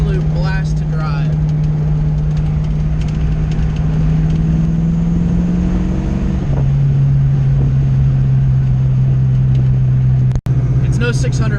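A car's engine drones steadily while driving, a loud low hum that holds one pitch, then drops slightly as it shifts, with someone talking over it and a sharp click near the end.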